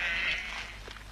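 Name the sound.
domestic sheep and goats bleating in Turkey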